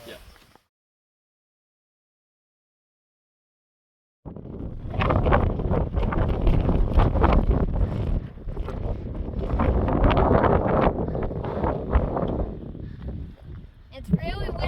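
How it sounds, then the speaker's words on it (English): Strong wind buffeting the microphone on the Appalachian Trail, a loud sustained roar with gusty swells lasting about ten seconds after a stretch of silence. "It's really windy."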